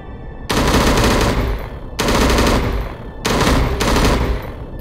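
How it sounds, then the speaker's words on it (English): Automatic gunfire from shooting at targets in the Anime War modern campaign video game, heard as three loud, sustained bursts of rapid fire separated by brief pauses. "Try shooting at the target on your right."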